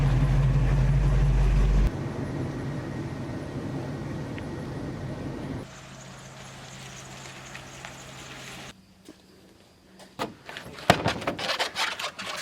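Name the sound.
1979 Pontiac Trans Am engine idling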